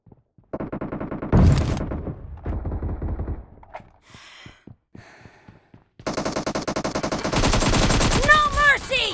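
Rapid shotgun and automatic gunfire in a PUBG Mobile squad fight, loud bursts coming in dense clusters with brief gaps, then a sustained heavy volley near the end.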